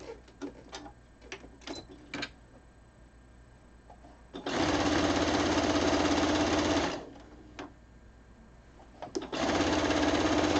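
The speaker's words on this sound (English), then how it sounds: "I'm going to start sewing about a 1/4 inch from the end" A sewing machine stitches binding onto a quilt in two loud, steady bursts of whirring, the first running about two and a half seconds and the second starting near the end, separated by quieter handling clicks and taps.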